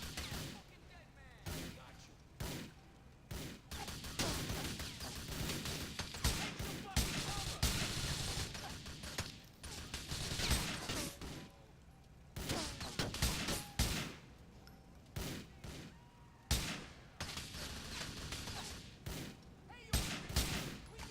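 Grand Theft Auto IV combat: bursts of gunfire crack out in repeated volleys with short pauses between, loud and close, with occasional in-game voices.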